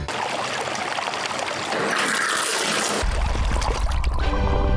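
A LEGO pirate ship loaded with loot is set down into water and sinks at once, giving a sudden splash and low rushing wash that keeps churning to the end.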